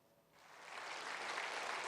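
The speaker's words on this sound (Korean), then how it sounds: "여당 의원들이 기립박수로 환영했지만" Lawmakers in the National Assembly chamber give a standing ovation, soft and distant applause swelling from quiet into a steady wash of clapping.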